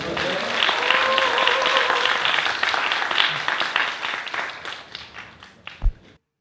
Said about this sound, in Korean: 큰 박수를 보내드리면서 이번 후보자 발표를 마치도록 하겠습니다